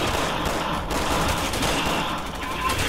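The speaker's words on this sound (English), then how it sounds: "Are they shooting at them?" Dense, continuous gunfire in the zombie shooter Resident Evil 6 during a UN hostage extraction, loud and unbroken for a few seconds, with faint voices mixed in.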